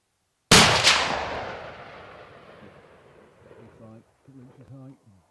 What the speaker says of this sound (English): As Gary tries out the Merkle Helix on the firing range